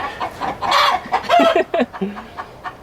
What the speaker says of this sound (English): Chickens are laughing at me as always.